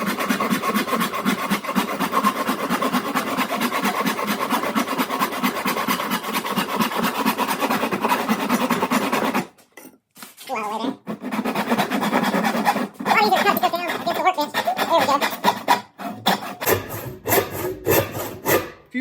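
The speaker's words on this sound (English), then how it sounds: "If you had a sharp saw, this would go so much faster." A dull hand saw cuts through a wooden board for a bird house with steady, rasping back-and-forth strokes, then stops briefly before resuming in shorter, uneven strokes.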